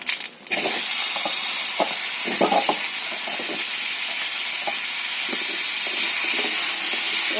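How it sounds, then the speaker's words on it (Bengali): Potatoes frying in hot oil with dried red chilli and cumin, right after fish was fried in the same pan, a loud continuous hissing sizzle that follows a burst at the start and holds steady to the end, with no talking. "আলুটা একটু ভেজে নিই"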